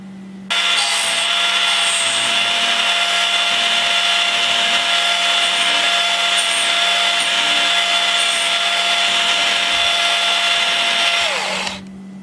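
A power grinder sharpens a blade edge in a steady, loud, high whine that holds unbroken for about eleven seconds before cutting off, with no talking.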